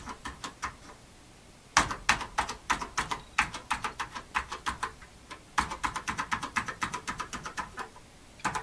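Keys clack on a TRS-80 Model 3 computer keyboard, many of them faulty. Sharp clicks arrive in fast irregular bursts with short pauses between, close and clear with no talk.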